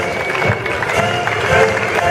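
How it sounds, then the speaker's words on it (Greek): Crowd applause at a Greek Independence Day school parade on 25 March, with spectators clapping steadily for marching students of a vocational high school in Nea Filadelfeia, a dense continuous wash of hand claps throughout. "Χειροκροτήστε τα παιδιά μας."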